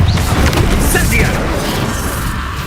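Fire spells cast in the Hogwarts Legacy video game, a loud dense rush of booming bursts and crackling blasts layered tightly together over the whole span.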